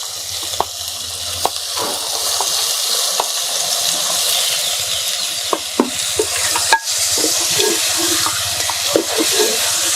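Boiled country chicken pieces sizzle as they fry in a browned paste in a clay pot, a loud continuous hiss with scattered scraping clicks of stirring, close up and without talk.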